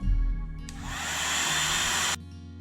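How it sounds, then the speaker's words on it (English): Hair dryer blowing on hot glue holding connectors in a Hallmark Santa's Sleigh snow globe under repair: a low rumble at first, then a steady loud whirring airflow that cuts off after about two seconds. "hair dryer to loosen the hot glue that's holding the connectors"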